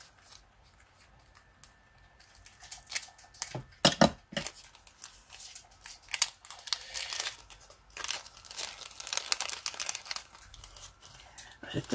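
A birthday parcel is opened, its packaging crinkling and tearing in scattered bursts that grow busier and louder toward the end, close by.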